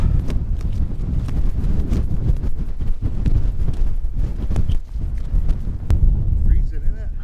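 Strong wind roars over a hillside at night during wild camping, heavy low buffeting and gusts hitting the microphone continuously, with occasional flapping and rustle mixed in.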